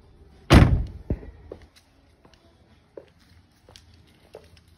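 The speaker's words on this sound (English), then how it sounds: "Let me open this door real quick." A 2010 Chevrolet Camaro 2SS door shuts or latches with a single loud thump close by, followed by a few faint clicks and soft handling noises.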